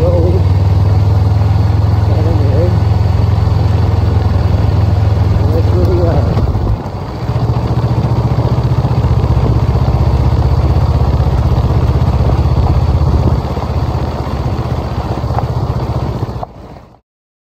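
A motorcycle rides along a gravel dirt road toward a tribal village, giving a loud, steady engine drone with rumbling road noise and clatter throughout, briefly dipping partway through, then cutting off near the end.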